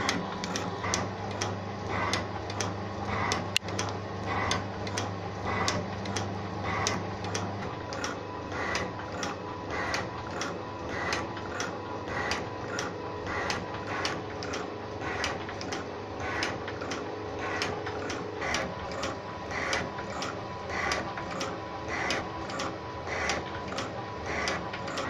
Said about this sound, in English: As you can see, the driving gear is rotating, and it's driving the gear on the Z-axis shaft.